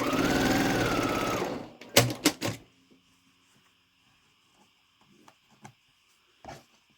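A sewing machine stitching quilt block squares together gives a short steady motor whir, then stops with a few clunks and clicks as the fabric is handled, followed by faint scattered taps.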